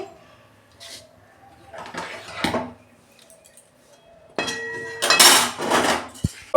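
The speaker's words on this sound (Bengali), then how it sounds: "দেখুন বন্ধুরা, ঢাকনা খুলছি।" A cooking pot lid is lifted and set down, giving metallic clanks and clatter of cookware with a bright ringing knock near the end, preceded by quieter kitchen handling.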